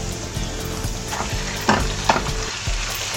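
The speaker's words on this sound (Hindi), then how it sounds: "ये गोल्डन हो गई है प्याज। अब हम इसमें कीमा डाल देंगे।" Minced meat, hand-cut, goes into a pan of golden fried onions for aloo qeema, bringing a steady loud sizzle with stirring scrapes and two sharp clanks of a spoon against the pan.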